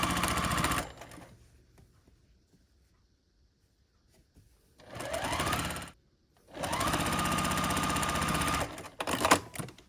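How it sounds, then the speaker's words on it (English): A sewing machine stitches quilt block columns in bursts, a rapid mechanical whirr of several seconds each, separated by quiet pauses, close and clear. "I'm just going to start sewing these together"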